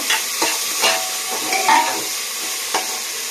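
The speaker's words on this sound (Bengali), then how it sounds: "টমেটোটা দিয়ে দেব দিয়ে আবারও নাড়িয়ে নেব" A spoon works through a tomato and spice paste in a cooking pot, making a series of soft scraping, squelching strokes over a faint sizzle, close and fairly loud, with no talk.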